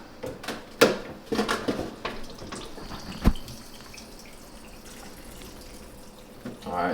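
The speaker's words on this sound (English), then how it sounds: "I always like to add a little bit of water in here," Spring water is poured from a bottle into a plant-based protein shake, with a few splashy gurgling bursts up close followed by a quieter steady trickle.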